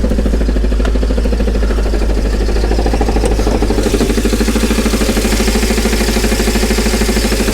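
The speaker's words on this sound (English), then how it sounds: "Start position. Nasty engine knock." A flood-damaged 2004 Mercedes CLK500 engine idles steadily and loudly with a rhythmic knocking tapping through it, running continuously without voices.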